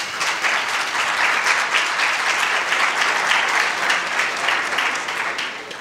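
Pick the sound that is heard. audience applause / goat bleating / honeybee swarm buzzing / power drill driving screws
audience applause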